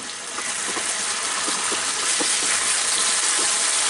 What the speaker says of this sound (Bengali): এটাকে আমি একটু হালকা করে ভেজে নিব এর মধ্যে। এখন আমি একটু জালটা বাড়াই